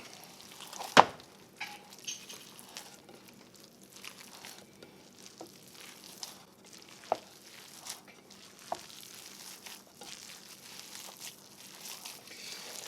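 Cornbread sage dressing being stirred and turned with chicken stock, giving soft, wet crinkling and squelching with a few sharper scrapes and knocks against the bowl, steady and close, with no talking.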